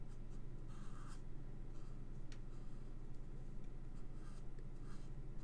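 A pen nib colouring on card produces soft, close scratching strokes in short bursts over a low steady background hum.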